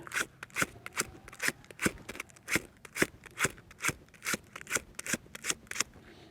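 Sandpaper scrapes against a ferro rod to throw sparks, making a rapid, rhythmic series of sharp rasping strokes, about a dozen and a half close scrapes in steady succession, with no speech.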